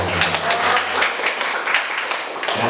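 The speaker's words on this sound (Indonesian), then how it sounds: "Tepuk tangan dulu dong buat yang sini." An audience at an indoor training session claps together, a dense, lively burst of applause lasting a few seconds, close and fairly loud with no speech over it.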